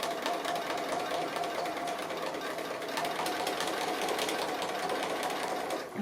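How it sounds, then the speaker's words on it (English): A sewing machine running a free-motion straight stitch to outline an appliqué, with a continuous steady whir and a fast, even needle rhythm close to the microphone, carrying on without pause. "I'm just outlining with a free motion straight stitch"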